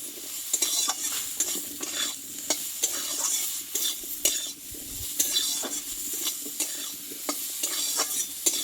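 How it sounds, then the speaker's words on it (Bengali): Papaya pieces with salt, cumin powder and turmeric powder are stirred in a frying pan, regular scraping and clacking strokes of a spatula over a continuous hiss of frying, close and fairly loud. "একটু নাড়াচাড়া করে নেবো আমি"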